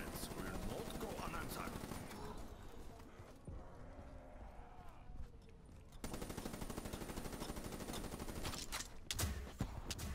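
A PPSh submachine gun in a video game fires rapid automatic bursts, loud and close, broken by short pauses.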